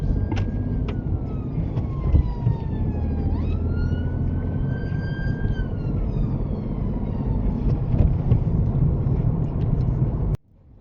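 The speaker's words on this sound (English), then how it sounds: "It's an ambulance trying to get through heavy traffic in Coventry." An ambulance siren wails through heavy traffic in Coventry, its rising and falling tone sweeping clearly above a steady, loud rumble of road noise and engines for about ten seconds before cutting off abruptly.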